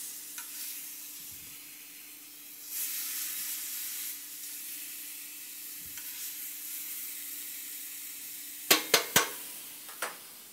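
Pork belly sizzles on a griddle with a steady, moderate hiss that swells and eases, ending in a few sharp metallic clinks from the utensils.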